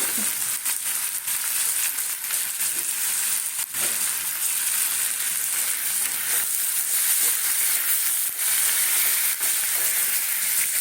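Snake gourd and potato pieces fry in a pan with salt and turmeric, giving a steady close sizzle and crackle with occasional stirring scrapes throughout.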